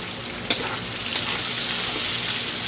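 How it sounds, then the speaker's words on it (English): Minced garlic, grated on a cheese grater, sizzles steadily in a pot for black-eyed peas and collard greens, with a couple of louder stirring scrapes near the start and end. "Get that mixed up in there real good."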